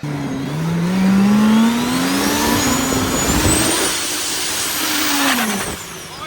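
A car engine on a MoTeC-tuned car revs hard with the exhaust opening up into a loud, rising roar, pitch climbing and falling across several seconds.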